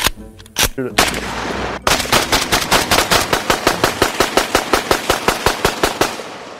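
Rapid volley of loud gunshots fired at a vest made of aluminum foil, a few separate blasts first, then a steady fast string of close, sharp reports about ten per second.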